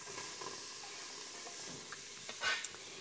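Chopped onion sautéing in a pan for a kabocha squash soup, a soft steady sizzle with faint stirring scrapes and one brief louder hiss near the end, quiet and without talk.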